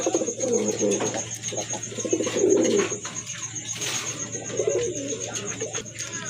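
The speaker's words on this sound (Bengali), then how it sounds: "আরেক জোড়া কবুতর দেখেন বিগ সাইজের কবুতর" Pigeons coo in low, throaty bursts nearby at a pigeon market, repeating several times, with a person talking faintly in the background.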